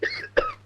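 Two short coughs in a Tamil comedy film scene, a sharp bark followed by a second quick hack a third of a second later, close and clear with a faint steady hum underneath.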